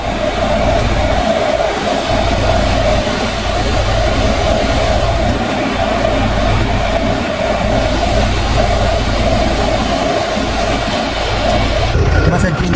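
A Vevor diesel heater just installed runs with a steady, loud mechanical drone and hum, constant throughout, with voices talking at times over it.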